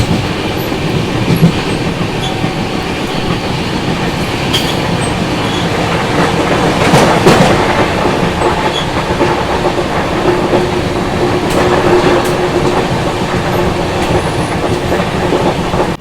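The LTT Mumbai–Chennai Express rolls along the rails toward a curve near Arakonam Junction, a loud, steady rumble from on board with rhythmic wheel clatter and faint squeal throughout.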